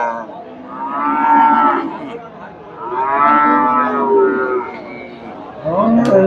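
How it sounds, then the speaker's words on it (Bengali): A Friesian cow moos at a busy rural cattle market in Bangladesh, two long drawn-out calls close by, with crowd chatter and voices around it. "সুন্দর একটা গাভী ফ্রিজিয়ান"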